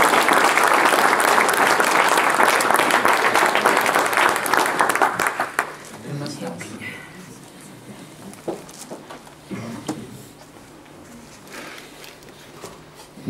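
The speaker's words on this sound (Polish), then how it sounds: "Jeszcze raz duże brawa." Audience applause at a kayak sport club's season-end gathering, loud and dense for about five seconds, then thinning into scattered claps and faint murmur.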